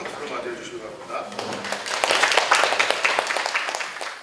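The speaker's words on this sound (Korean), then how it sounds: "박수로 맞이해 주시기 바랍니다" Welcoming applause from an audience at a rural design competition briefing, clapping that swells from moderate to a fuller, louder patter before easing slightly, heard close in a hall.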